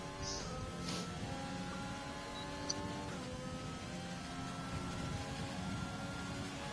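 A McLaren race car in a racing video game, heard on board during a hot lap at the Brazilian Grand Prix, its engine holding a steady high-pitched drone with rising and falling harmonics as it shifts through gears, loud and continuous.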